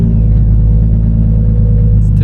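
A drift car's exhaust drones loud and low, a constant raspy rumble from close by that holds steady throughout.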